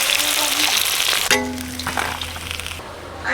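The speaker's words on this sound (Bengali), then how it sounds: "মাছ ভাজা হয়ে গেছে ওই তেলেই মশলাটা দিয়ে দিচ্ছি" Pieces of river fish fry in hot oil with a loud, close, steady hiss, then an abrupt shift to a quieter crackle and sputter as more goes into the pan.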